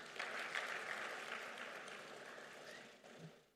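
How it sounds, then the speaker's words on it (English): Audience applause at an Africa manufacturing investment forum, faint, steady hand clapping from a crowd across the hall, fading slightly toward the end. "this gentleman tried and he deserves a hand clap"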